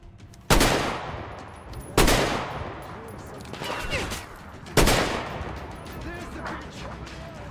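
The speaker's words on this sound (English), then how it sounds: "Two bullets fly past your head." Sharp gunshots crack out in the post-apocalyptic shooter Metro Exodus, three loud separate reports with ringing tails, bullets whizzing past between them over a faint background of distant shots.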